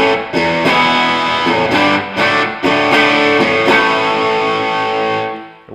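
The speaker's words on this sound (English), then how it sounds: "there's a two-position gain switch to give you an additional range of drive sounds" Electric guitar played through a JHS 3 Series drive pedal with its gain switch engaged, loud overdriven chords struck several times and left ringing, then fading out at the end.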